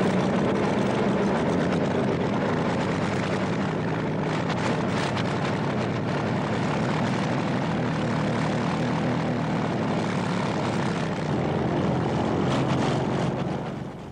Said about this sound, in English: The radial engines in this 1933 Junkers aircraft were made by BMW.